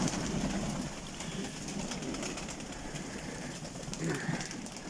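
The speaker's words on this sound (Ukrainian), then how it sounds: "Це такі голуби е, березніговатовські називають." Berezneguvatovsky pigeons coo softly amid a dense, steady flock murmur, with low rolling calls layered over constant background noise and a brief rise near the end.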